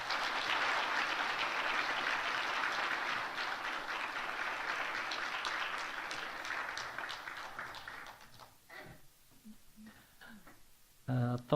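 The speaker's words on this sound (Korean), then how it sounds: "번 더 박수로 축하드립니다." A church congregation applauds in a steady, dense wash of clapping for about eight seconds, then the clapping fades out and a voice speaks over a quieter room.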